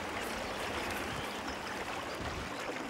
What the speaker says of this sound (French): La rivière coule dans un cadre sauvage.